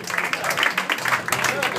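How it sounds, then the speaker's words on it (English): Applause from an audience at a magic show at the Magic Castle, a short burst of dense clapping at moderate level, with some voices mixed in. "Give yourself a applause."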